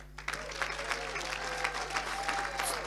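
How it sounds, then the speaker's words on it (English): Sustained audience applause at the Spirit of Manchester community awards ceremony in 2019, a steady wash of many hands clapping throughout, with faint voices mixed in beneath. "You've got to keep clapping."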